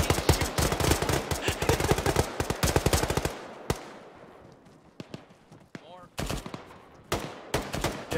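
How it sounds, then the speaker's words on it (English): Light machine gun fire in the ArmA military video game: long rattling automatic bursts, then a pause of scattered single shots, then more bursts. The fire is loud and close, with voices briefly heard. "they're light machine guns!"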